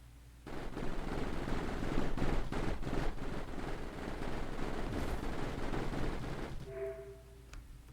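Turrets opening fire in the strategy game Mindustry, a dense, sustained burst of rapid machine-gun-like shots that starts abruptly and continues for several seconds before tapering off into a short tone.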